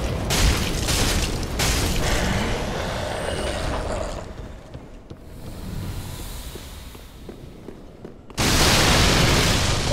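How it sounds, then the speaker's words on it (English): Explosions in Dark Souls 3 boom repeatedly in loud bursts, with a rumbling stretch between blasts and a final strong blast near the end, and no talking over them. "Oh! I'm surrounded by explosions."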